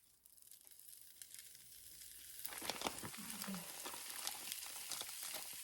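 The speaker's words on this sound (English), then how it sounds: "start cooking up the bacon in the pan" Bacon slices hit a hot pan in a home kitchen and erupt into a steady, close sizzle and crackle that builds and then holds, with a brief scrape as the strips are moved.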